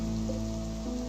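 Nighttime rain in the video game Rimworld falls as a steady, even patter and wash of ambient rain under a constant low hum.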